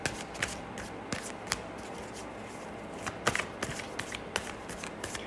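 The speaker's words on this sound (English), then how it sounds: "while I was shuffling the Oracle cards" Oracle cards shuffled by hand in a quiet room, a steady run of soft papery riffles with sharper snaps and flicks scattered throughout, fairly close and alone with no talking.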